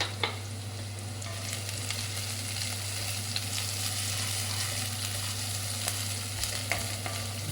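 Onions sauté in a pan with tamarind and salt for a special paneer masala, making a constant close sizzle over a low steady hum, with occasional faint clicks of stirring.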